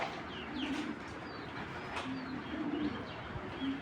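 Racing pigeon cooing in soft, repeated low coos with faint chirps and a little wing flutter, moderately close over steady background noise.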